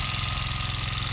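A hand tractor engine runs in a farm field, a loud, close, steady low chugging with a fast regular pulse.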